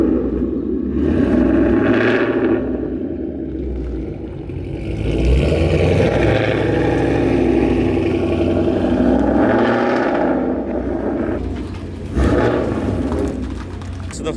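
A Ford Mustang Boss 302 engine revs loudly with the e-brake left on, rising and surging in several pushes over a steady low rumble, with voices and laughter mixed in.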